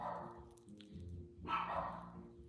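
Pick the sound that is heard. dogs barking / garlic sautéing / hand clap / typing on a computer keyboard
dogs barking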